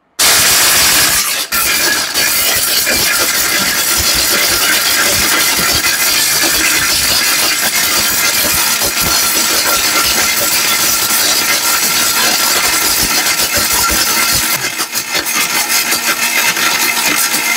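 A powerful 1200-watt blender grinds turmeric, a loud, close, continuous roaring whine that starts abruptly and holds for over fifteen seconds with slight fluctuations near the end, with no speech.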